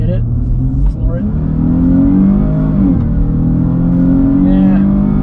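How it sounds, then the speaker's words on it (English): A 2022 Chrysler 300 S accelerates at full throttle on a road, its engine climbing steadily in pitch with a shift partway through, loud and sustained from inside the cabin. "we'll test out the acceleration. Get all the stuff off the tires and then hit it, floor it."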